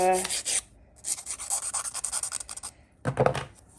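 A nail file rasps back and forth over gel nails in quick short strokes, close and fairly loud, with a brief pause between bursts.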